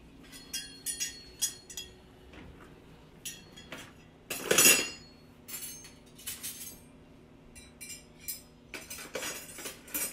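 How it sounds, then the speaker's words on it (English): Metal silverware clinks and clatters as pieces are sorted into a kitchen drawer, with scattered light chinks and one louder rattling cluster midway, close by. "Sort silverware."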